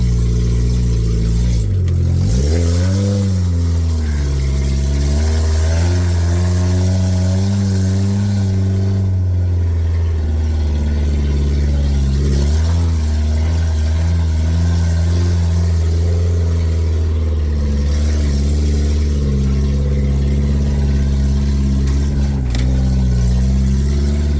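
An old Suzuki fitted with a Nash Metropolitan body climbs a steep hill in two-wheel drive, its engine droning loudly and steadily with revs rising and falling over a brief dip early on.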